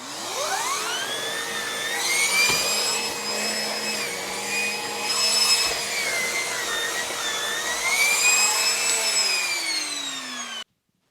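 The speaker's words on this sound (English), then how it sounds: "You can hear just how loud that spins it up." A Henry Petcare HPC 160 vacuum cleaner runs alone and loud, its motor whine spinning up and shifting in pitch, holding steady, then winding down before it abruptly cuts off.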